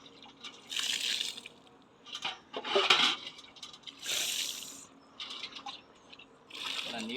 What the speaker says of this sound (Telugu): ఇలా నీళ్ళు పెట్టుకోవాలి